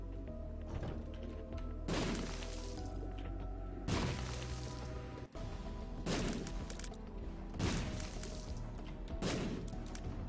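Repeated heavy explosions in The Binding of Isaac boom at roughly two-second intervals, each a loud crack followed by rumbling debris, over continuous background game noise.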